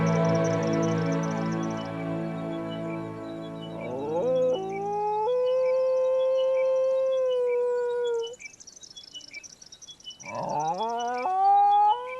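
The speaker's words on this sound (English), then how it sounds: "It's Kira's clan, the golden wolf camped facing the red sunset, who answers Maru" Golden wolves of a clan camped facing a red sunset howl in answer: several long, sliding, overlapping howls rise and fall close by, fading briefly before a fresh chorus swells back in, with no talking.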